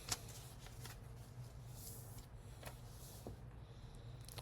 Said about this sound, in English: I'm going to fold this down and kind of lightly crease it.